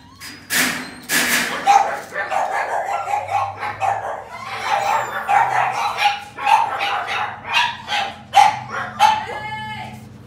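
Several Huskies bark excitedly in quick, uneven bursts, close and loud, with a few yelps and thumps mixed in.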